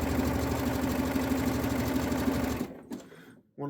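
A sewing machine runs a zigzag stitch over waistband elastic, a loud steady mechanical whir and rapid needle chatter that cuts off near the end, followed by a brief pause and a short restart.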